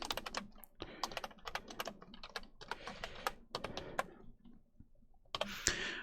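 Rapid, irregular typing on a computer keyboard, with bursts of close, crisp key clicks separated by short pauses and no speech.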